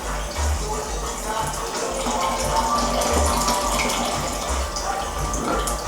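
Kava liquid drains and trickles through a wet tea towel, making a steady close watery pouring with faint dripping throughout.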